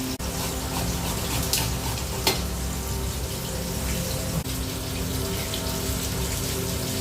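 Water runs steadily from a kitchen tap, a continuous close gushing hiss, while onion, green chilli, cumin powder, salt and turmeric are prepared alongside frying fish for a raw banana curry.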